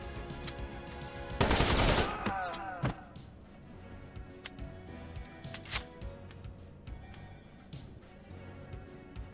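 Gunfire in the turn-based video game Metal Slug Tactics, a dense burst of shots followed by scattered single pops and clicks, with a voice talking now and then.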